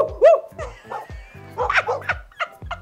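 Female dogs in a home kitchen give several short, sharp barks and yips up close, coming in quick bursts with brief gaps between them.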